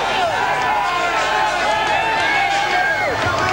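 A boxing arena crowd at the Evander Holyfield vs John Ruiz heavyweight fight keeps up a steady, dense roar of many voices, unbroken and fairly loud for the whole stretch.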